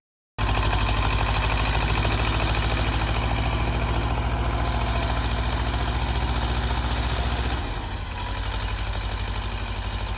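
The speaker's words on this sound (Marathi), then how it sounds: "सेकंड वर ट्रॅक्टर चालू आहे लव सेकंड टाकलाय आणि ट्रॅक्टर चालू आहे" A Swaraj 724 tractor engine in low second gear chugs steadily at a fast, even rhythm, loud and close, briefly dipping in pitch near the end before carrying on.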